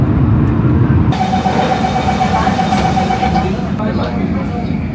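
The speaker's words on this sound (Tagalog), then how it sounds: "Walang driver tong Blue Line na MRT." Onboard ride on a driverless Blue Line MRT train in Singapore: a steady, loud rumble of the moving carriage, with a thin whine rising in the middle and easing near the end as the train slows.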